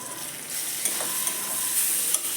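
Minced meat fries with Kashmiri chilli powder in a pan for a gourd kima dish, giving a steady, close sizzle with a few light stirring clicks and no talking.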